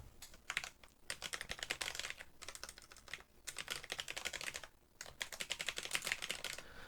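Someone types on a computer keyboard while editing in Movavi Video Editor Plus 2020. Quick, close, clicky keystrokes come in three runs separated by short pauses, with no voices.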